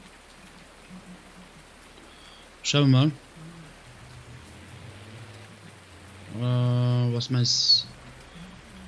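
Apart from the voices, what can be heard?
heavy rain in Farming Simulator 19 video game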